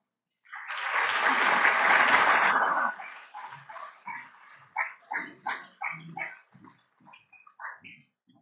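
Audience applause in a luncheon hall welcoming a Jesuit priest, a dense burst lasting about two seconds that then fades into scattered claps and murmurs.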